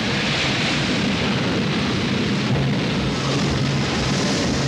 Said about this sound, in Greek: Να, να η καταιγίδα έρχεται!